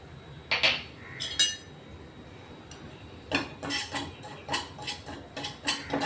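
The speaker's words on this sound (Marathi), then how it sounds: "तो चांगला भाजून घेणार आहे आता." A spoon clinks and scrapes against a pan as about three spoonfuls of semolina dry-roast without ghee. The metallic knocks come in irregular bursts, close by, with quiet gaps and no voices.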